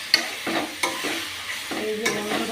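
Mutton pieces with light masala stirred and sautéed in a pan, a steady close sizzle broken by several sharp scraping stirs of the spatula.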